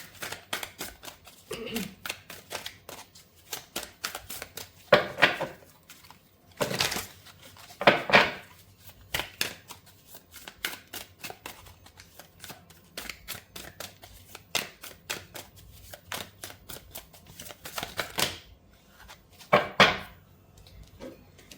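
Tarot cards being shuffled during a Hindi angel-message reading: a steady run of quick, crisp flicks and riffles, close to the mic, with a few louder shuffling bursts standing out against a quiet room.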